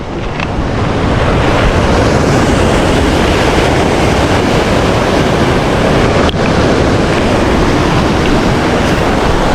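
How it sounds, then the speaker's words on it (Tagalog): Loud crashing ocean surf while fishing, a continuous heavy roar of big waves mixed with wind and no talking. "laki man ta ng alon."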